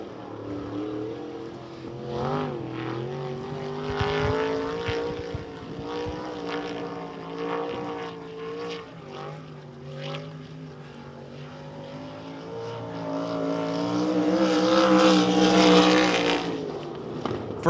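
Race car engine lapping the Devil's Bowl Speedway dirt oval, rising and falling in pitch as it passes and circles, loud at times and farther off at others, building to a strong surge near the end.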